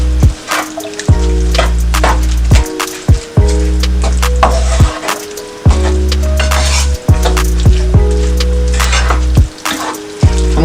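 Carrots stirred in a cooking pot for a meat pie filling: loud repeated wooden scrapes and knocks against the pot, arriving in an uneven rhythm over a steady sizzle, with no talking.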